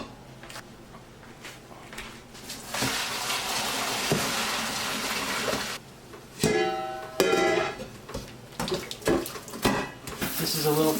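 A tap runs with a broad rushing splash of cold water onto cooked potatoes for several seconds, then stops, followed by clattering and handling sounds.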